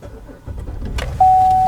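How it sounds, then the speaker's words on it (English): A 2015 Buick LaCrosse started by push button with the brake pressed: a short rustle and click, then the engine catches at once and settles into a steady, loud idle hum. "To start the car, you've actually got to put your foot on the brake, and then push this button until it starts."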